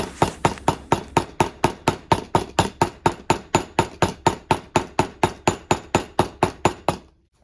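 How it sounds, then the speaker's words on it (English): Steady, rapid hammer blows flattening ground-off screw ends, about two dozen evenly spaced sharp ringing strikes for several seconds, then silence. "And then we'll flatten out the remaining amount with a hammer."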